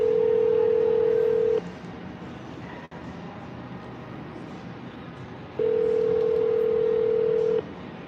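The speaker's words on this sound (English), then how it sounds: "Let me know if y'all could hear this, the phone ringing and shit." An outgoing phone call rings on the line: two loud, steady ringback tones about two seconds each, separated by a quieter gap with faint background noise.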